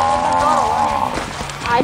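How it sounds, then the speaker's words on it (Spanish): A cow lets out one close, drawn-out moo with a wavering pitch on an outdoor farm, fading into footsteps and light movement. "No era toro, era una vaca."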